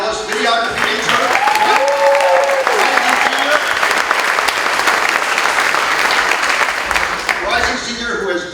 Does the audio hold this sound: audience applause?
yes